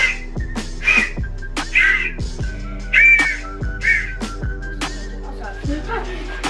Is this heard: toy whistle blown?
yes